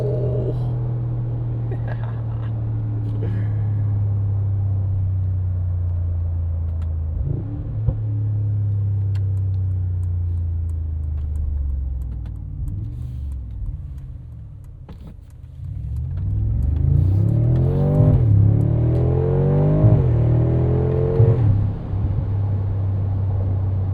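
A 2025 Mercedes-AMG G63 with a 577 hp biturbo V8 and side pipes drones steadily, then surges into a loud, rising full-throttle acceleration with climbing gear sweeps close by.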